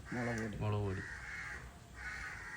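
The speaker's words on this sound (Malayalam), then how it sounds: "കാക്ക എന്തൊരു വിളി" A few harsh caws from a crow, fairly close, overlapping with a brief stretch of speech.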